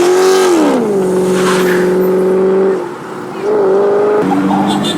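A modified car pulls out of a car show with a loud, close engine drone that rises as it revs, holds steady, dips briefly, then climbs again, filling the whole stretch.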